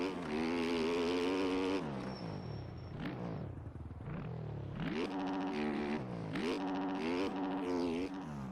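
Fantic 450F motocross bike engine in the MX Bikes racing game, a loud, close four-stroke roar with steady high revs, then a drop and repeated rising throttle bursts as the bike accelerates and shifts.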